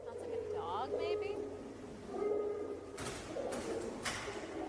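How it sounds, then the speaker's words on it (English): A pigeon cooing in short warbling phrases, faint and somewhat distant, mixed with a low hum and a few soft thumps, with voices talking nearby. "Is that a pigeon?"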